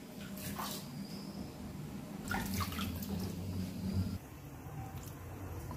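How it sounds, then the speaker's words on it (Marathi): Wild leafy vegetable leaves (baphali) with a little soil on them are swished and rinsed by hand in a vessel of water, giving close, continuous splashing and sloshing with a few louder surges. "पानांना थोडंसं माती लागलेली आहे त्यामुळे असं स्वच्छ धुवून घ्या"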